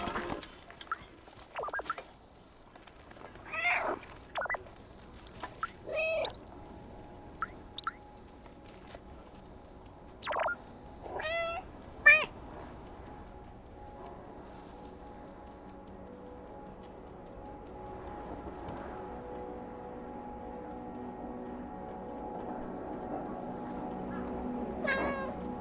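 Several cartoonish cat meows from a video game creature, spaced irregularly in the first half, then quiet background game ambience; a person imitates a meow once.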